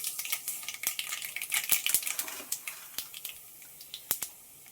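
Mustard seeds in hot cooking oil in a pan crackle and pop as sharp, scattered snaps over a light sizzle, dense at first and thinning out, close and fairly quiet with no talking.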